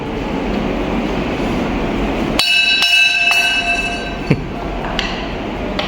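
A metal bell at a rail museum is struck a few times, ringing out bright and clear over a loud, rumbling background, then fading.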